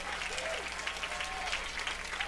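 Crowd applause at a summer collegiate baseball game between the Cotuit Kettleers and Falmouth Commodores, scattered outdoor clapping from the third base side that comes through fairly faint and distant, with faint voices mixed in.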